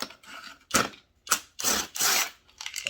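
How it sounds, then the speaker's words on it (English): Ratchet or wrench work loosening the intake bolt on an Echo 2511T chainsaw during a port job, heard as close, sharp bursts of mechanical clicking separated by short pauses. "Pop that intake bolt out."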